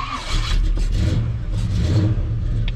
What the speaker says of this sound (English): It's got that hollow old V8 sound, you know?